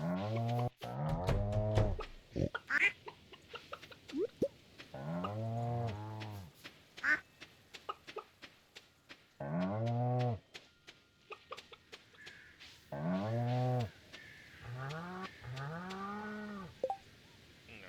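Stardew Valley farm animals calling in a steady series: repeated cow moos, quacking ducks and clucking chickens, loud and close, each call distinct with short gaps between, and no talk.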